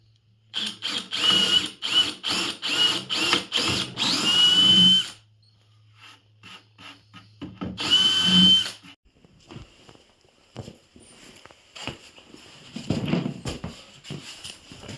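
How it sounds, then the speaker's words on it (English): A power drill drilling holes in a board whirs in short pulsing bursts, then runs in a longer steady spin, stops, and starts again in a brief burst, with quiet handling noises after. "then we'll drill those 2 holes"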